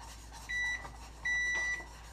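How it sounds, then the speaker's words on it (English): A kitchen timer beeps twice while pudding cooks on the stove, each a steady electronic tone lasting about half a second, clear over a low background hum with no talking. "When your timer goes off, it's been a minute"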